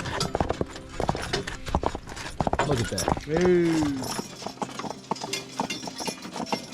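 Hooves of a broke Percheron and Belgian draft horse team clop as the pair backs up, with a driver's calls and onlookers talking over the steps and a brief whinny-like tone midway.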